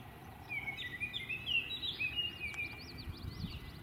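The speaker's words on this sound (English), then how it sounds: "Here's a Baltimore oriole singing its variable but distinctively melodious song." A Baltimore oriole sings a melodious run of whistled phrases, slurred and varied, moderately distant over a low rumbling outdoor background.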